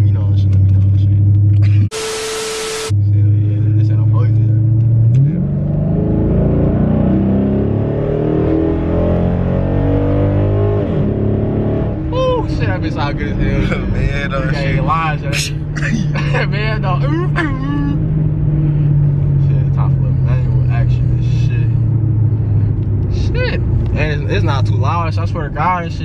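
A tuned Dodge Charger SRT8 Super Bee rumbles loudly and steadily up close, its deep engine note rising once and holding, while someone talks over it and wind buffets the microphone.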